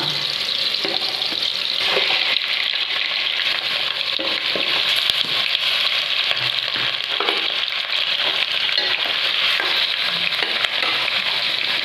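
Chicken sizzles and fries loudly in a hot pan for chicken saaru, a dense, steady crackle with occasional stirring scrapes throughout.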